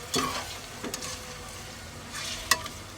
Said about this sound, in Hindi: अब इसमें हम टमाटर डालेंगे।